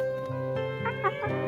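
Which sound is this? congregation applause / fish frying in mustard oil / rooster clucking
rooster clucking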